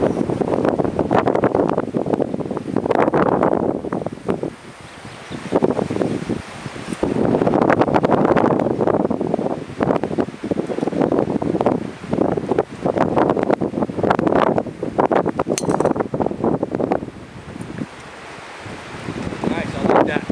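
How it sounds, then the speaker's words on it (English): Wind gusts across an open golf course beside a bay, a steady broadband rush that swells and eases in waves, loud and close on the microphone throughout. "Windy, beautiful."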